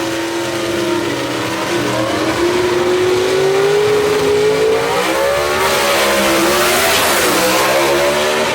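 A gasser drag racing car's engine roars loudly and continuously at Knoxville Dragway, its pitch climbing as it accelerates hard down the track.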